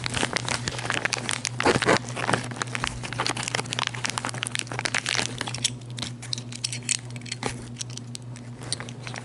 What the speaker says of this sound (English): Let's see if we can unbox or unwrap this or take it out without having to use scissors or anything.